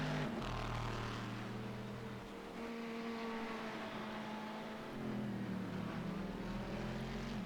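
Ferrari GT3 race car engines in the iRacing sim game, a loud, steady high-revving drone from two cars with audible gear changes and shifting pitch, continuous and without talk.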